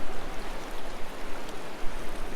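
Red Creek flows as a steady, close broadband rush of moving water in the wilderness, a continuous babble with no talk over it.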